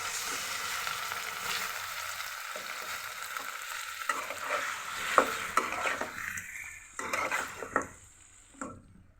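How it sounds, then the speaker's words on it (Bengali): Marinated beef tipped into a pan of frying onions sizzles loudly and steadily, with scraping stirs and a few sharp clinks of a spoon against the pan building toward the end. "এখন আমি ম্যারিনেট করে রাখা মাংসটা দিয়ে দিচ্ছি"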